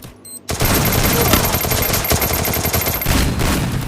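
Loud, continuous shotgun and gunfire bursts from the Free Fire battle royale game, with dense overlapping shots and explosions filling the scene after a brief quiet start.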